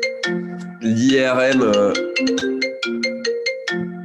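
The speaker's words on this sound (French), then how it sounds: "J'ai coupé mon téléphone, mais ça sonne quand même sur mon Mac." A phone ringtone rings through a Mac computer linked to a switched-off phone, a repeating melodic chime pattern, loud and close, with a voice speaking briefly over it.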